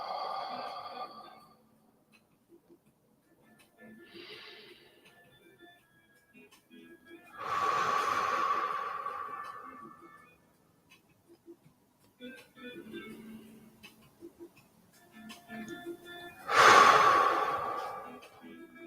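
Slow, deep breaths drawn in through the nose and pushed out through the mouth during a guided breathing exercise, two long exhales standing out clearly amid quiet gaps.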